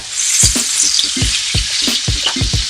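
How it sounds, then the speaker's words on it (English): Steak searing in butter in a hot pan gives a steady, close, loud sizzle with a string of quick sputtering pops and crackles throughout, and no voices. "And again, I let it sit. Don't touch it. It'll sear."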